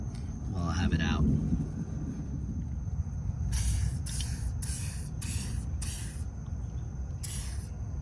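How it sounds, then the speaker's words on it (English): WD-40 sprayed onto the rusty parts of a winch during a strap replacement: six short, sharp hissing bursts in quick succession, close and loud, over a constant low wind rumble. "I'm gonna put some WD-40 on that while I have it out."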